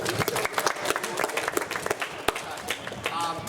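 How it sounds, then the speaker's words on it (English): A small group at a basketball clinic claps after a coaching session, scattered sharp claps under loud voices, brief and close. "Big round of applause to you."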